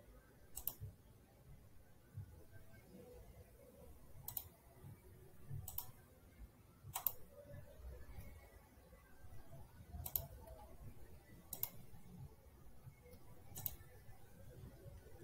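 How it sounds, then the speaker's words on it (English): Faint computer mouse clicks on a quiet desk, about seven single sharp clicks spaced a second or more apart over a low room hiss. "just click on End Lab."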